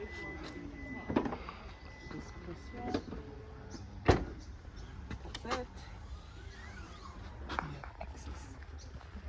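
A 2025 Lexus GX 550 power window hums briefly inside the cabin amid clicks and handling knocks, fairly faint, with quiet speech around it.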